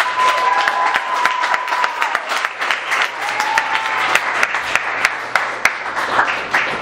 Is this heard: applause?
yes